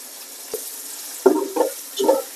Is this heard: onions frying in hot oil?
yes